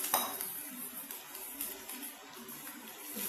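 Fried rice vermicelli with chicken being stirred in a pan, soft repeated scrapes and light metallic clinks of a utensil against the pan, fairly quiet and close.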